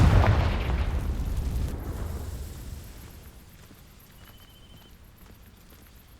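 In the Hogwarts Legacy game, the Confringo fire spell strikes dry vines and sets them alight: one loud whooshing burst that fades into a low crackling tail, with no talk.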